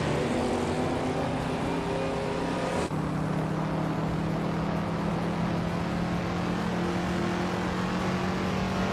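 Vintage street cars, among them a 1968 Mercedes-Benz 300S, race on a tight-cornered track in a video game, with steady engine drone and revving that shifts pitch midway as cars jostle for position.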